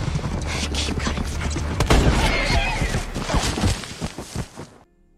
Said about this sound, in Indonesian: tiba-tiba David datang dan langsung menghentikan kelompoknya dengan menembak